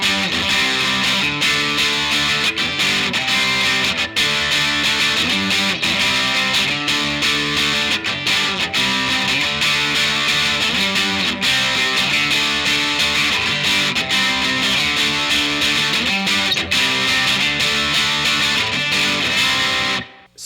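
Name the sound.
electric guitar playing verse chords slowly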